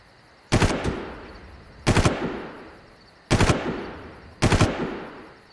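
Gunfire in the video game Far Cry, four separate bursts of rapid automatic fire, each loud and close with a quick crack followed by a fading tail, spaced about a second and a half apart with no talking.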